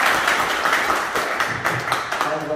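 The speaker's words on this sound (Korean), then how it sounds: "박수로 환영해 주시기 바랍니다" Warm audience applause at a clan association meeting as a guest legislator is welcomed, steady dense clapping filling the room throughout.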